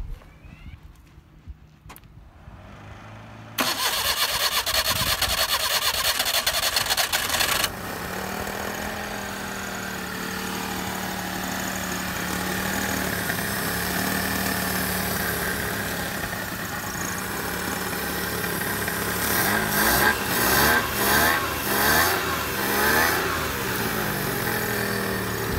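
An old Maruti Suzuki 800 car engine, freshly fitted with a new battery, cranks briefly, catches and settles into a loud, steady close-up run with a few revs near the end.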